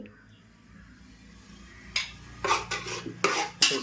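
Biryani ingredients being stirred in oil in a cooking pot, with a quiet start and then several sharp scraping clatters of a utensil against the pot toward the end.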